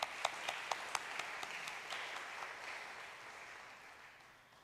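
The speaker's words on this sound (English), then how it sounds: "I want to give them a little applause right here now." A church congregation gives brief, faint applause. A few sharp claps open it, then a soft wash of clapping fades out over a few seconds.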